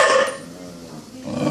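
An American Staffordshire terrier and a purebred pit bull make rough, close growls and barks, a noisy, continuous snarl that eases midway and then grows louder again near the end.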